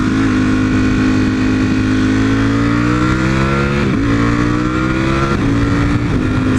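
Motorcycle engine under way while riding, loud and close, a steady drone whose pitch climbs and then dips sharply at gear changes near the four- and five-second marks, with wind rushing throughout.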